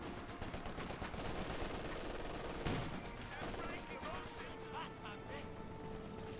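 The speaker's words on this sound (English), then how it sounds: "so the machine gun is back in action." Machine gun and other gunfire in the Company of Heroes 2 battle, a dense rattle of bursts with crashing impacts, under steady commentary talk.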